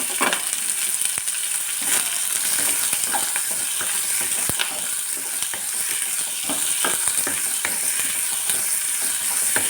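Crushed garlic, cumin, onion and chopped green chilli frying in a pan for a spinach and potato curry, with a steady close sizzle and scattered sharp clicks and scrapes of a spatula stirring the mixture.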